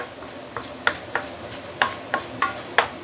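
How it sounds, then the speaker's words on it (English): A spoon scrapes and knocks against a pot while Penang curry fish is stirred over low heat, giving several short separate clinks at an uneven pace with no talking. "You need to keep on stirring so that it won't burn at the bottom"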